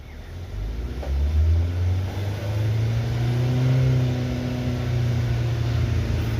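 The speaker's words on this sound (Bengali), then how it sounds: "দেখুন আমি অ্যাক্সেলেটার ধরে রয়েছি" A Maruti Suzuki Swift Dzire BS6 CNG engine rises from idle and is held at a steady high rev near 4000 rpm, a droning hum with a slowly climbing pitch, close and alone.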